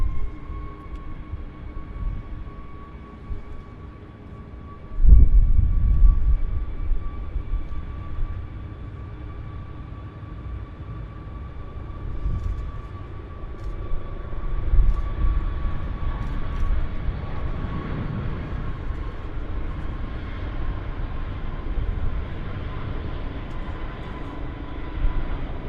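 A WestJet airliner from Toronto on approach to Vancouver Airport drones steadily in the distance, a faint sustained engine hum with a slight swell partway through.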